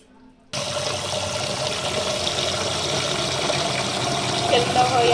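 Rice is washed with water in a pressure cooker in a home kitchen, a steady broadband rush of pouring and swirling water starting abruptly after a short quiet moment and continuing close and fairly loud.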